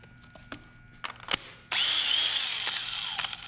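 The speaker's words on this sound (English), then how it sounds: "This drill bit is a little bit dull." A few sharp knocks and clicks, then a cordless drill with a dull bit whirs into wood with a high steady whine, biting and grinding for a couple of seconds.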